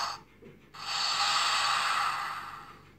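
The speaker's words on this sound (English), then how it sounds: "If you press and hold the button, it does like a flap and then a swooping noise." Toy Jurassic Park 3 Re-Ak A-Tak Alpha Pteranodon giving a short flapping rustle followed by a long breathy whooshing swoop, close and fairly quiet, with no talking.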